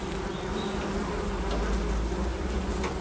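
Steady, dense buzzing of many honeybees close by, a continuous droning hum with no pauses and no voices.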